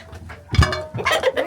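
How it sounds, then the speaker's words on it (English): Chickens on a snowy winter farm cluck and call at close range, a few short bursts of fowl sounds as they are offered a plate of scraps, with no talk over them. "chickens, you guys want this plate of scraps?"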